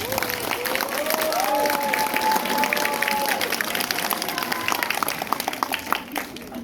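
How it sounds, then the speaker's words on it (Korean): A dense wash of audience applause at a film screening gathering of a local film association, with some cheering and a voice rising over it early on, the clapping continuing steadily for several seconds. "우리 임승수 군한테 한번 큰 박수 부탁드리겠습니다."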